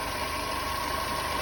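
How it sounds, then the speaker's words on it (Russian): A Ravon car engine idles steadily at close range, a constant low hum with a faint rhythmic ticking running through it, no voices over it. "у нас двигатель сейчас работает."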